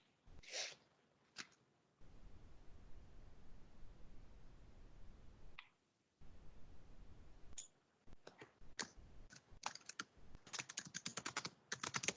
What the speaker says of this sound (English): I'm just typing the question.